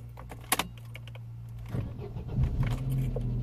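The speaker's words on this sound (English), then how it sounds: "Let's gonna try to start this engine." A Vauxhall Opel Meriva with a 1.6 engine is started after an ECU replacement. Keys jangle first, then the starter cranks briefly and the engine settles into a low, steady idle, heard close and fairly quiet.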